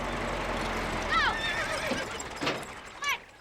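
Several loud horse whinnies during practice for a horse pulling contest, the first around a second in and another near the end, over steady background noise with shouting voices nearby.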